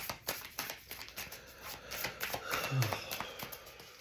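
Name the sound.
tarot cards being shuffled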